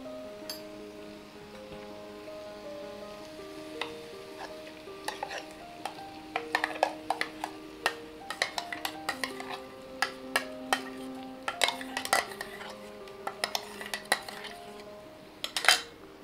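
Spinach paste and paneer stirred together in a pan over low heat, with a continuous soft sizzle and many sharp clinks and scrapes of a metal spoon against the pan, close up, irregular in rhythm, no talking.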